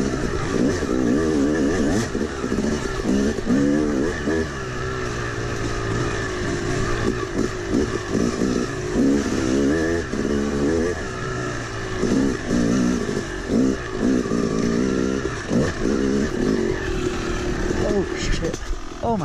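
Yamaha YZ250 two-stroke dirt bike engine running and revving after a grenaded top end was repaired, outdoors in snow, loud and close throughout with fluctuating throttle blips, partly under people talking.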